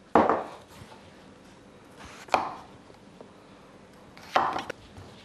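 A knife chops through cherry tomatoes on a board in a home kitchen, three separate crisp cuts spaced a couple of seconds apart, close and clear against a quiet room.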